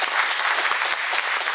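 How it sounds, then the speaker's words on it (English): An audience at a Project Gemini 50th anniversary event breaks into a short, loud burst of dense applause welcoming the Gemini astronauts. "Big round of applause."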